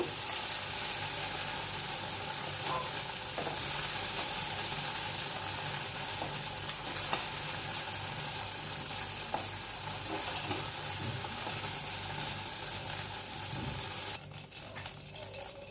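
Sliced okra fries in hot oil in a home kitchen, giving a continuous close sizzle with occasional stirring scrapes and clinks throughout, with no talking.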